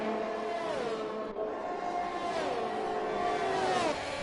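A Haas race car in a racing video game, on the final lap of the Mexico circuit, holds a high, steady engine whine. The pitch dips and climbs through gear changes as the car pushes hard, close and loud.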